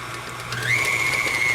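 A stand mixer beating cheesecake batter runs with a steady motor hum that rises in pitch partway through as it settles into a constant whine, close by with no talking.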